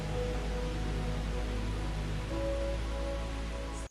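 Steady night rain with wind, a continuous dense wash of noise at moderate level with faint tonal hum underneath, no voices, cutting off abruptly at the end.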